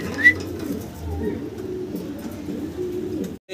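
Pigeons coo softly nearby in a pigeon loft, low rolling coos repeating under a little background noise over a few seconds.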